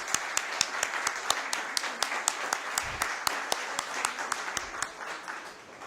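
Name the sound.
applause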